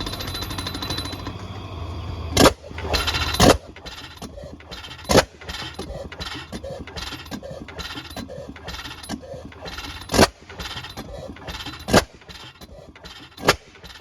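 A 15hp Reid oilfield hot-tube engine starting: a rumbling mechanical run punctuated by sharp, loud irregular bangs as it fires, close by with no talking.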